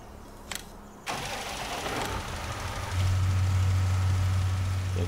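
A tractor engine starting in Farming Simulator 19, with a sudden crank and catch, then a rough run that settles into a loud, steady low idle hum.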